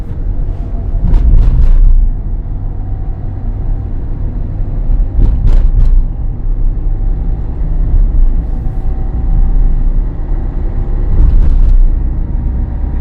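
A car engine under throttle while driving, a loud continuous low rumble that swells and eases in waves, with brief rises in pitch as gears are shifted.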